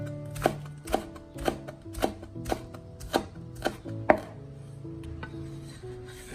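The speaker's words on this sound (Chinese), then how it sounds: "接下来，我们把剩下的葱叶全部切成稍微短一点的葱花。" A knife chops green onion leaves on a cutting board with about nine crisp, evenly spaced strokes, loud and close, then the rhythm trails off into quieter handling.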